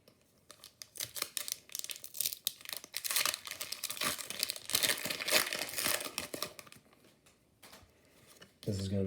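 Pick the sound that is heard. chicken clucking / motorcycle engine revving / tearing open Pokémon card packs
tearing open Pokémon card packs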